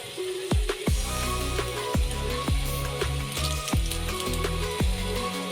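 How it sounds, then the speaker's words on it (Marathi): Potatoes frying for Kashmiri dum aloo give a soft, steady sizzle in the pan, broken by several sharp clinks and taps of a utensil at irregular intervals. "जे बटाटे ठेवले आहेत ते फ्राय होत आहेत"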